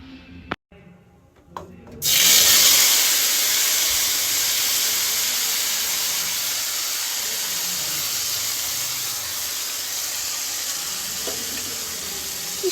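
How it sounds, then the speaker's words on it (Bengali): Spice paste hitting hot oil in a wok bursts into a loud, steady sizzle after a brief quiet start with a couple of clicks, then keeps frying in a continuous hiss throughout. "এবার যে পেস্টটা তৈরি করে রেখেছি সেটাই দিয়ে দেব কড়াইতে তেলটা গরম হয়ে গিয়েছে"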